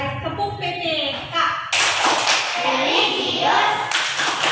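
A school class performs the tepuk PPK rhythmic clapping chant: sharp, patterned hand claps mixed with children's chanting voices, growing fuller and louder partway through.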